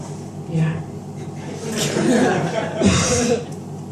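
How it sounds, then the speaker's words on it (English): On stage at a comedy club, a comedian gives a few close, rough coughs and throat-clearing sounds, mixed with her voice. "Sorry, I've got a bit of a cough then."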